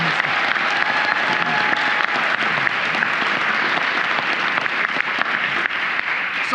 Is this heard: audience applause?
yes